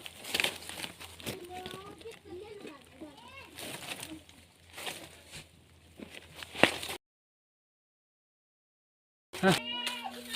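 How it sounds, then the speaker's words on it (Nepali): Goats bleat several times at close range amid rustling and scattered voices, followed by a short silence and another bleat. "बाख्रा पनि यता"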